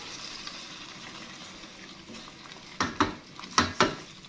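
Chicken being mixed with yogurt and biryani masala for Hyderabadi chicken biryani, a faint soft stirring hiss followed by several sharp clinks and scrapes of a spoon against the bowl near the end.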